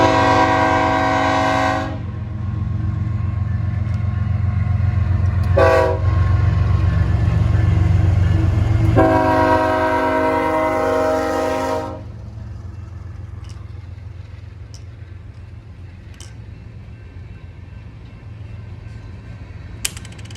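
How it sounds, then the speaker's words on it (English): A long, empty coal train of private-owner power company cars with distributed power units passes close by. Loud horn blasts sound over heavy rumbling, then the horn stops and a steady clanking roll continues at a lower level. "Both the coal trains were pretty long, empty, and they were private owner cars from the power company"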